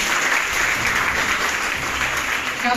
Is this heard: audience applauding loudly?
yes